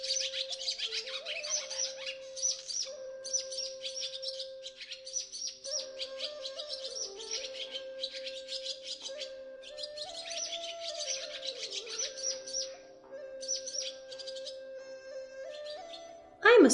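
Swallows chirp in repeated quick bursts of high twittering over a sustained tone that runs through the whole stretch, near and moderately loud, with a brief louder sound at the very end.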